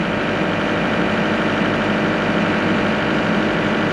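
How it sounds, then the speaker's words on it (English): A dump truck engine idles steadily after a weak start, a loud, even mechanical rumble with a constant low throb running throughout and no talk. "We'll let it idle for a while."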